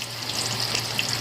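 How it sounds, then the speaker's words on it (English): Plantain fries in hot oil with a dense, close crackling sizzle and small bright pops over a low steady hum, with nobody talking. "So the oil is hot. So I'm gonna add the plantain to it."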